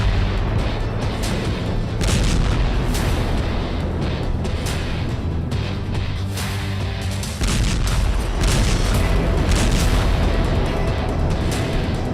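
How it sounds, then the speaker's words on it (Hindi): A train loaded with ammunition blows up in the Russia-Ukraine war, giving loud, continuous rumbling booms and bursts that overlap for the whole stretch with no pause. "उड़ा दी बारूदी ट्रेन, हंगरी बोला हारा यूक्रेन।"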